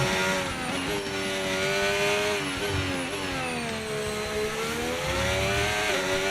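Formula 1 car engine in the racing game F1 25, a loud high-pitched whine that climbs and drops through gear changes, with several sharp upshifts and steady revving throughout, alone with no talk.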